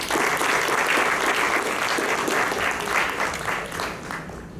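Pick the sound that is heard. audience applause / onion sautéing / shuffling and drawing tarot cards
audience applause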